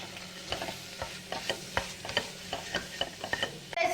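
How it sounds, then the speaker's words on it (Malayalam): Turmeric, garam masala and chili powders are stirred into a frying beef curry masala, a spatula scraping and tapping the pan in an uneven rhythm over a low background sizzle, close and moderately loud, no talking. "ഇനി അടുത്ത നമുക്ക് അതിനകത്തോട്ട് മഞ്ഞപ്പൊടി ഇട്ട് കൊടുക്കാം ഗരം മസാല പൊടിയും മുളക് പൊടിയും ഇട്ട് കൊടുക്കാം"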